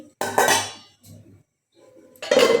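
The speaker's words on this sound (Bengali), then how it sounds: "ঢাকাটা দিয়ে দিলাম।" A lid goes onto a cooking pot of jackfruit and potato curry with two close metallic clanks and a softer scrape between them.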